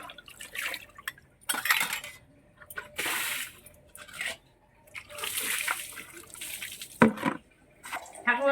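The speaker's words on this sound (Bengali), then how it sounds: "দেখুন আজকে আর মাজবো না তেঁতুল দিয়ে, আজকে এমনি ধুয়ে নেবো" Kitchen utensils rinsed with plain water without tamarind scrubbing, giving bursts of splashing, dripping and clinking metal dishes in uneven waves, with a sharp clatter near the end.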